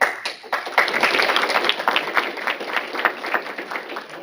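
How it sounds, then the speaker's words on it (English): Scattered audience applause at a county commission meeting, a short burst of light clapping from a modest crowd that fades out after a few seconds. "Hold your applause"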